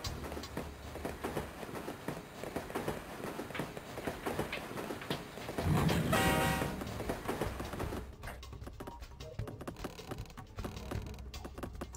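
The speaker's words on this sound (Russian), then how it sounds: "От поезда убегать заново, да?" A train approaching in the Jackie Chan Stuntmaster video game, a continuous mechanical rumble with creaking and clattering that swells to a peak midway, then thins into sparser rattles.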